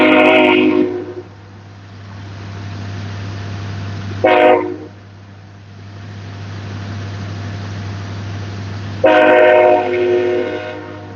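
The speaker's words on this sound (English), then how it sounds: "Train." A passing train sounds its horn in three loud blasts, separated by a few seconds, over a constant low rumble of rolling wheels and engine.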